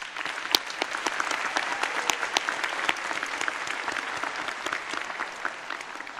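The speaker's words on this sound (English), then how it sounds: "Please give them a round of applause." A commencement audience at South Florida State College claps for student services staff, dense applause with sharp individual claps popping out close by, sustained evenly throughout without voices.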